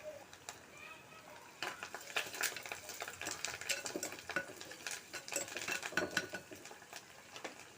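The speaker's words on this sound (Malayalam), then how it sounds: "കറിവേപ്പില ഇട്ട് കൊടുത്തിട്ടുണ്ട് നന്നായിട്ട് ഇളക്കി കൊടുക്കാം" Curry leaves stirred in a cooking pan for an eggplant curry, with a utensil scraping and clinking against the pan in quick, uneven strokes at close range.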